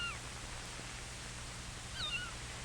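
Anna the cat gives a couple of short, faint meows at the very start and again near the end, heard over a steady low hum in an old 1950s film soundtrack.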